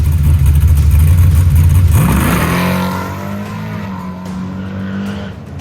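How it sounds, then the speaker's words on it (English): A carbureted nitrous drag car launches hard from the starting line, a loud droning engine roar that sweeps upward as it pulls away and then holds a steady, slightly fading pitch. "the car left the starting line much better, although it did bog just a little bit"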